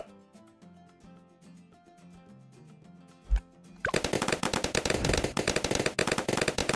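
A quiet stretch with faint tones gives way to a rapid, continuous volley of crossbow shots in Bloons TD 6, loud and fast.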